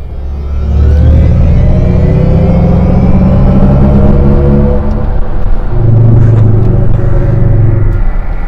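Mercedes EQC electric car rumbling loudly while accelerating in sport mode, a steady close drone with rising whine that holds throughout, no talk.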